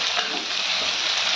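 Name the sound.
bitter gourd frying in a pan with salt and turmeric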